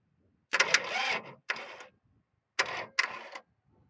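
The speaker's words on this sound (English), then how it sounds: "I'm bringing you guys on the tractor today. Hopefully, if I can get it to crank." A tractor engine cranks but does not start, with four grinding bursts of the starter separated by short pauses, heard up close.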